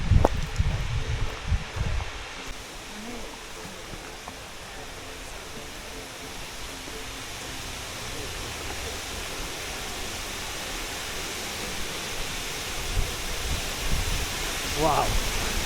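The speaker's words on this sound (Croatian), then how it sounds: "Došli smo do iduće lokacije, to je vodopad na rijeci Jasenici." A waterfall on the Jasenica river on Vlašić sends up a steady, broadband rush of falling water, even and continuous throughout, with a brief burst of louder noise near the start.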